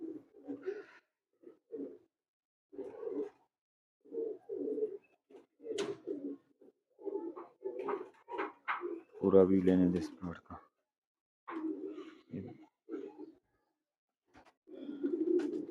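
A Bullet Teddy pigeon hen gives soft, low coos in short runs, mostly under someone talking close by, with one fuller coo standing out midway.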